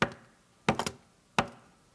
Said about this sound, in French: et il frappe à la porte.